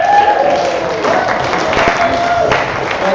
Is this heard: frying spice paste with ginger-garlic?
no